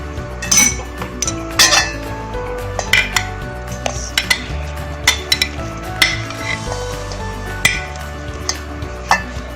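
Cut banana, apple, dates and peeled almonds being mixed in a bowl for a creamy almond fruit chaat, with repeated close clinks and scrapes of a spoon against the dish in an irregular rhythm, no talking.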